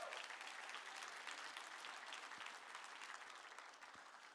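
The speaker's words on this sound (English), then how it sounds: "I stepped on the toes of the applause." Audience applause fills the room at an engineering awards ceremony, the Consulting Engineers of Alberta Showcase Awards, as a dense, continuous wash of many hands that stays faint and distant throughout, with no voices over it.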